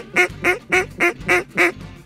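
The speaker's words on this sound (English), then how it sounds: "Get ready, Janis, this is a Drake mallard." A drake mallard duck on a marsh during a duck hunt gives six loud, evenly spaced quacks in a steady rhythm, close and clear with no talking.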